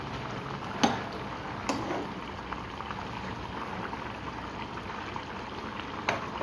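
Tengra fish curry with eggplant simmers gently in a pot, a soft, steady bubbling that stays low and close, with a couple of faint clinks along the way.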